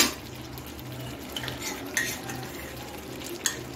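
A spoon scrapes and clinks around a pot of chicken tehari with spices, steady stirring close up with a faint sizzle underneath.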